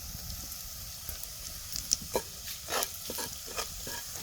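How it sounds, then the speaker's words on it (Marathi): A quiet, continuous sizzle of hot oil with chillies and spices as yogurt is stirred in. A spoon scrapes and taps the pan several times at close range. "व्यवस्थित सगळं दही तेलात मिक्स करून घ्यायचं"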